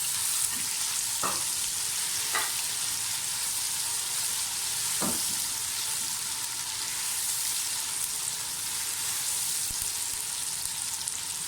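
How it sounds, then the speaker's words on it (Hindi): Steady, loud sizzling of potatoes frying in a hot pan for vegetable biryani, with a few brief scraping clicks from stirring. "आलू को थोड़ा फ्राई कर दें"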